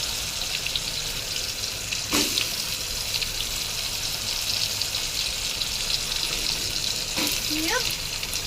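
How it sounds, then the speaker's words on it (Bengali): Potatoes fry in a pan with salt and turmeric, giving a constant dense sizzle with a couple of brief scraping stirs, close and steady with no voices. "এর মধ্যে নুন আর হলুদ দিয়ে ভালো করে আলুগুলো ভেজে তুলব"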